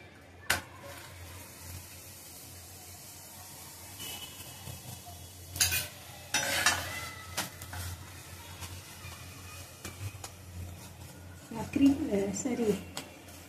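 Ghee sizzles faintly on makki roti on a hot griddle, with soft bursts of frying and occasional utensil clinks and scrapes, while someone speaks throughout.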